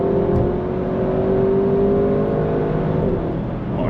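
An Audi RS6 Performance powers out of a bend and up a hill, its engine a loud, close, steady drone with rising whine under hard acceleration, heard from inside the car with no talking.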